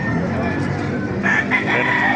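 Chickens at a busy outdoor poultry market in Baliuag, Bulacan, clucking and crowing amid dense crowd noise and nearby talk, with a brighter burst of calls in the second half.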